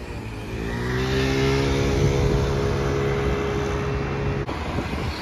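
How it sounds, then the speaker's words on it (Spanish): A Maybach car driving past on a Barcelona street, its engine swelling from a low hum to a loud, close drone as it passes, then easing off near the end, with steady traffic noise behind. "Por aquí aparece un Maybach."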